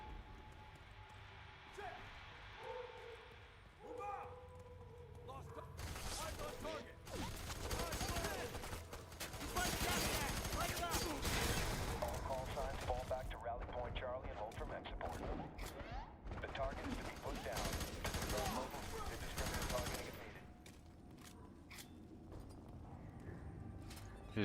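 Rapid bursts of video game gunfire crackle loudly through the middle of an online shooter match, mixed with game effects and dense in-game noise, fading toward the end.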